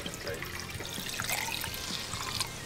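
Coolant pours into a Nissan Patrol TD42 engine, a continuous gurgling, splashing trickle of liquid close by with faint talk in the background.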